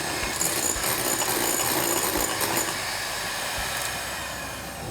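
An electric mixer beats eggs for a chocolate mud cake with a continuous, close whirring hum that stays steady and moderately loud throughout, with no talking.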